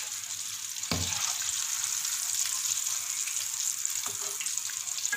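Chicken fries in hot oil with a steady soft sizzle and crackle close by, broken by a couple of brief clanks or stirring knocks from utensils.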